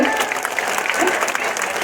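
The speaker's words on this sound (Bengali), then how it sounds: "রিপন ভাইয়ের জন্য একটা করতালি চাই" An audience at a school event applauds, a dense burst of clapping from a crowd that fills the short moment at close range, with voices mixed in.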